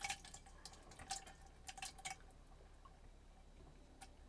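Liquid poured into a thermal cooking pot in an RV kitchen gives faint, scattered drips and a soft trickle. Brief splashes cluster early, then the sound thins to quiet, occasional drops.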